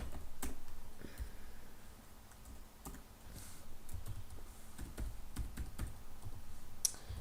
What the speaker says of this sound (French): donc vous tapez le texte